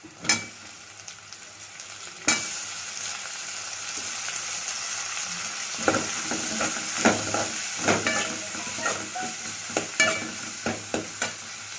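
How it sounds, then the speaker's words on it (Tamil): Onions and tomatoes fry in a pan for garlic kuzhambu, a continuous close sizzle broken by a sharp clatter early on and then repeated scraping stirs at irregular intervals. "தக்காளி வெங்காயம் 2 சேர்த்து நல்லா வதங்கிடுச்சு"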